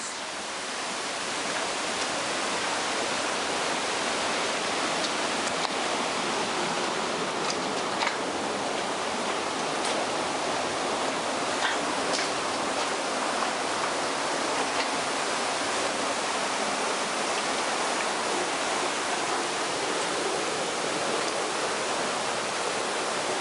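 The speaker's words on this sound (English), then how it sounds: "There is the tunnel, and there is the waterfall" Tunnel Falls waterfall roaring steadily from a hiking trail, a broad constant rush of water that stays loud and unbroken throughout.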